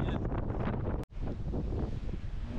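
Steady wind buffets the microphone on a rocky seashore during a shore-fishing trip for catfish with live shrimp bait in Santa Catarina, Brazil, a loud continuous roar with a brief dropout partway through.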